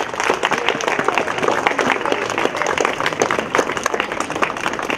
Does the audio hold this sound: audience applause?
yes